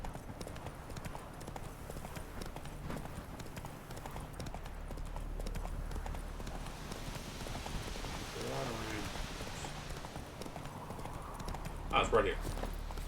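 Roach the horse's hoofbeats in The Witcher 3 form a steady, fairly soft clip-clop at a trot, with someone talking over them throughout and a brief whinny-like sound near the end.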